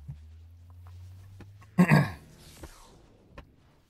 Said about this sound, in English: Fuck, if I can never stop coughing.